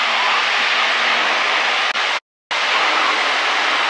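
Loud, steady broadband roar of the Sierra trick plane's engine during aerobatic flight, close to the cockpit, cut by a brief sudden dropout before resuming.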